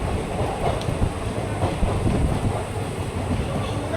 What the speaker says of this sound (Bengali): দুর্বার গতিতে ছুটে চলেছে আমাদের ট্রেন